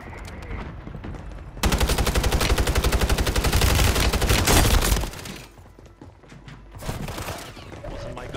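Sustained automatic gunfire in a first-person shooter video game, a loud rapid burst lasting several seconds, then quieter scattered shots and game noise.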